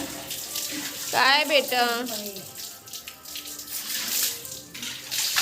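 Water runs steadily from a tap while a container fills, a constant close splashing hiss under a woman's brief spoken words and soft background voices.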